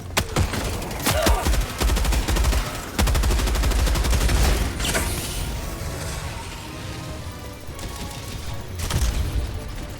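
Dense gunfire in the Helldivers 2 video game during a fight against Automatons: rapid automatic bursts and heavy booming shots, loud and close, with fire incoming from several directions.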